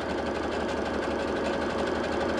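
A sewing machine running a zigzag stitch, with a steady, fast mechanical whirring and rattling heard up close without pause.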